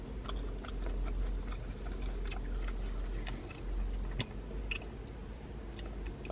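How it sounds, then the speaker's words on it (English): Someone chews crunchy peanuts in a Chinese dish, close to the mic, with soft irregular crunches and moist bites spread over several seconds and no talking. "And you get the bites of peanut, and it's that wonderful crunch"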